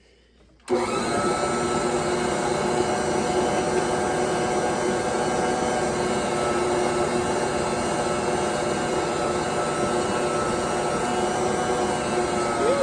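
An electric mixer whirs steadily through peanut butter cookie dough, a loud, continuous motor drone with harmonic tones that starts abruptly after a brief quiet moment and holds without pause.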